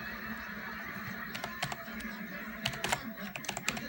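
Keys clatter on a backlit computer keyboard in scattered bursts of sharp clicks, with a quicker flurry toward the end over a faint steady hum, close and fairly quiet.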